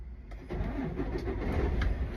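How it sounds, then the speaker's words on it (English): A truck tractor's diesel engine cranks and catches, parked in neutral with wheels chocked and no trailer attached, then settles into a loud, steady, close rumble. "I'm now going to start the truck"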